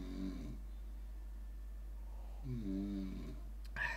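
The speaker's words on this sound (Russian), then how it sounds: "Храп, конечно, заебись." A person snores in slow, deep rasping breaths, two drawn-out snores separated by a quiet pause, close and fairly soft over a low steady hum.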